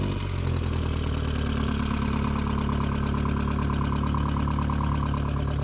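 A Volkswagen Jetta engine runs steadily and loud, revving with throttle and settling into a rough, knocking idle, with a constant low rumble throughout and no talk.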